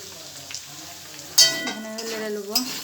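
Chopped onions hitting hot oil with a sudden loud sizzle, then frying and being stirred with a utensil, close and continuous.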